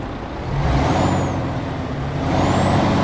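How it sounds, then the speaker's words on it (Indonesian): A heavy MAN TGX truck engine rumbles low and steady, with faint high hissing whistles drifting over it, no voices present, in the video game Euro Truck Simulator 2. "ini beneran suara truk man"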